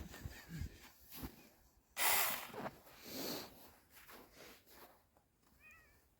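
A cat makes a few soft, close meows and snorty breaths, with quiet rustling and a faint rising mew near the end.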